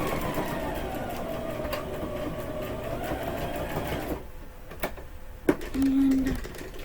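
A sewing machine runs steadily while back stitching a quillow, a dense continuous whir for about four seconds, then stops, leaving a few faint clicks and a short tonal hum.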